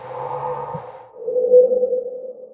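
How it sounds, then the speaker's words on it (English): A smooth, pure electronic tone that holds steady, then slides lower and hums on, sounding like a heavily filtered voice turned into a sine-like oscillator. "starts sounding more like a sine wave oscillator."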